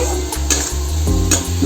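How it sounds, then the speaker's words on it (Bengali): Spices, red chilli and coriander powder with garlic paste, fry in hot oil, giving a loud, close, continuous sizzle broken by a few sharp stirring scrapes. "মশলাটাকে মশলার গন্ধটাকে করছি, ভাজছি"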